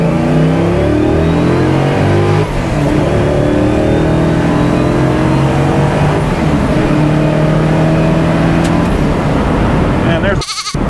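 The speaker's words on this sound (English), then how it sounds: "I love second and third gear pulls in this car" A Fastback car accelerates hard through second and third gear on a country road, the engine note climbing loud and close in rising sweeps with a brief drop at the shift.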